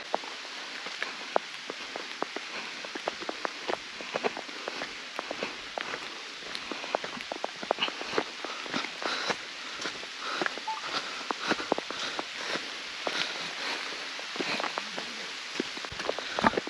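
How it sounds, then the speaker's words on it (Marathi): Rain falling during a trek on Harihar fort in Maharashtra, a faint, steady patter of drops with scattered sharper ticks, as if striking a nearby surface or gear, and no voices. "तर मित्रांनो पाऊस यायला लागला पूर्ण भिजलोय आपण"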